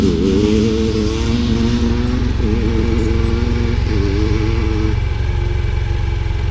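Motorcycle engines drone steadily on a race track during a riding boot camp, their revving pitch rising and shifting as bikes pass close by, loud and continuous throughout.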